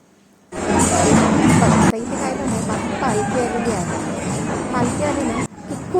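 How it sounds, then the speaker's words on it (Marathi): A dense crowd murmurs at a Diwali Padwa temple fair at Dhanaji Vithoba, Pokharapur, a steady loud babble of many voices close around. "त्यामुळे भयानक गर्दी असते तिथे"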